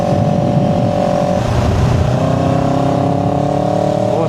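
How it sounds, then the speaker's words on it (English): A CFMOTO CLX 700 motorcycle pulling hard in third gear in eco mode, engine note rising steadily through one continuous loud acceleration with wind rush, heard from the rider's position. "Eco mode, third gear pull, overtakes easily."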